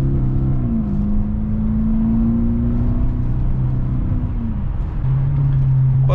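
A BMW E65 745i accelerates hard, its engine droning loud and close inside the cabin with a steady rising whine, then a gear change drops the pitch before the drone climbs again.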